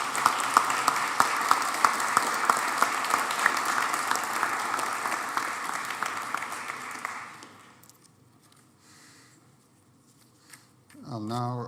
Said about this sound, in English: A round of applause for all three